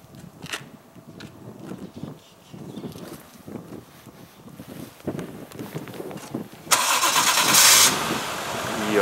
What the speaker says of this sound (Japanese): ちょっとエンジンかけます